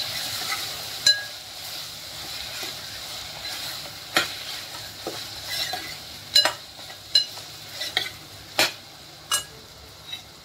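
Rasam mixture stirred in a pan: a soft, steady sizzle runs underneath while a spoon scrapes and taps the pan in irregular strokes, growing more frequent toward the end, close and fairly quiet.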